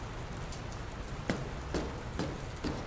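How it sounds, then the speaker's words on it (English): Steady rain pours down in the video game Dr Langeskov, The Tiger and The Terribly Cursed Emerald, a dense hiss with a few sharper drips and splashes landing at irregular intervals. "I don't think it's supposed to still be raining"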